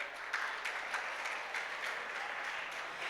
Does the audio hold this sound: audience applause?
yes